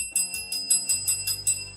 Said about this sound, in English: I got a new bell.